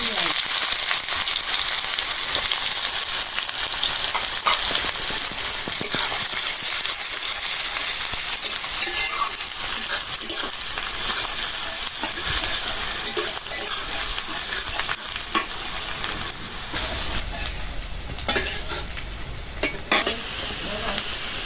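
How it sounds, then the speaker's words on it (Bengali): Onions fry in a hot pan and get stirred, giving a steady hiss and sizzle broken by the scrape and clink of a utensil against the pan. The sound is close and continuous throughout. "পেঁয়াজটা ভেজে নিলাম"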